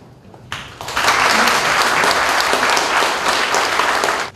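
Loud, sustained applause from an audience at a 2012 Chung-Ang University labor union general meeting and launch ceremony, swelling in quickly and holding as a dense, continuous wash of clapping.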